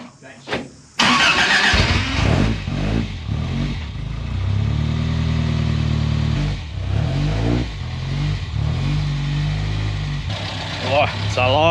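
Toyota KE70 Corolla engine fresh from a new cam install cranking, catching and settling into a loud lumpy idle with a few blips, while people talk and exclaim over it close by.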